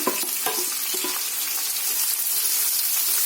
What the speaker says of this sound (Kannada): ಈರುಳ್ಳಿ ಸ್ವಲ್ಪ ಮಟ್ಟಿಗೆ ಕಂದು ಬಣ್ಣ ಬರೋವರೆಗೂ ಫ್ರೈ ಮಾಡಿ